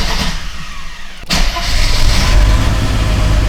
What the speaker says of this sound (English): So I'm gonna start the car and we're gonna take it around the block